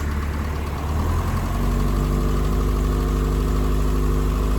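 An Opel GT engine on new spark plugs catches and settles into a steady, close idle, a low even rumble with a faint uneven beat.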